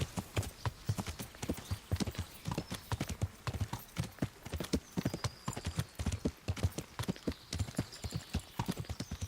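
Steady, rhythmic clip-clop of horse hooves trotting close by in the video game Kingdom Come: Deliverance, with a faint whinny.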